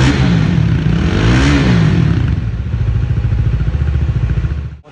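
A Bajaj Dominar motorcycle engine, just serviced, revs up loudly close by, rising and falling in pitch before settling into a steady rumble that cuts off at the end.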